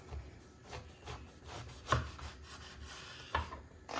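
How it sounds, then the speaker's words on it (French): A knife slicing aubergines lengthwise on a board, soft rubbing strokes with two sharper taps as the blade meets the wood, quiet and close, no speech. "غادي نقطعو الباذنجان ديالنا على الطول بحال هكا"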